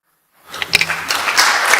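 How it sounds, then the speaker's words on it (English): Applause from parliament members in a session hall, starting after a moment of silence and swelling into sustained, fairly distant clapping. "I hope you hear the applause from all the members"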